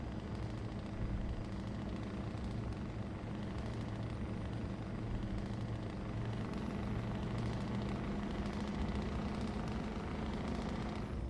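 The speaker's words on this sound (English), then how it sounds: "aeroplane taking off" An aeroplane takes off in the video game Euro Truck Simulator 2 as a steady, dense engine roar that fills the whole stretch without pause, with a faint high whine rising partway through.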